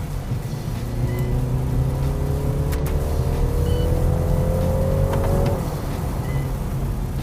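A BMW 330e plug-in hybrid in sport mode sends its engine note through the cabin speakers as it accelerates: a steady droning hum with a rising tone that climbs for several seconds, then drops back, close and moderately loud with no talking.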